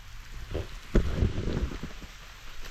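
Rain falls outdoors in rural Thailand as a dense, steady hiss with scattered heavier patters and a brief louder gust of drops, fairly close and without talk.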